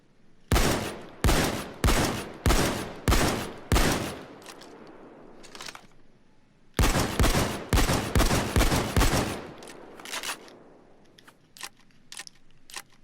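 Two pump-action shotguns in Payday 2, the Reinfeld 880 and Locomotive 12G, fire in two loud bursts of five or six evenly spaced blasts each, with sharp reports and fading tails, then a few faint clicks after a short gap.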